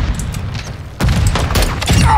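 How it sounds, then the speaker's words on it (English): Grenade explosions in Call of Duty DMZ, loud close booms and rumbling blasts with gunfire crackle, the heaviest detonation landing midway and the din continuing afterward. "I'm taking fire! Grenade!"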